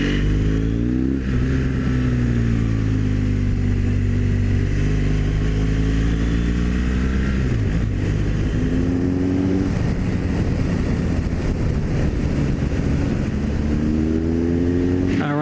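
A scrambler motorcycle on Bridgestone AX41S tires rides along a road. The close, steady engine drone rises and falls with changing revs under constant wind rush.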